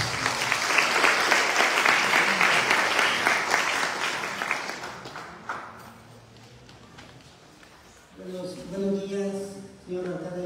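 An audience claps for a speaker at an academic-year opening ceremony, with sustained loud applause that fades after about six seconds. A voice then begins speaking near the microphone.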